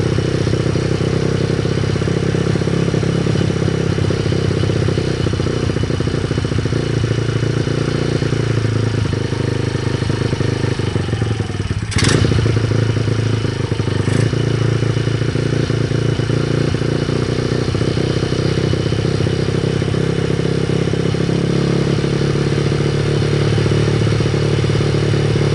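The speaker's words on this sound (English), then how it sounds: "it's finally idling, but it's going to drop down. That's the idle that I'm having to deal with." Pit bike engine idling steadily and loud throughout, with a rough mid-pitched exhaust drone, a brief clatter near the middle and no talk.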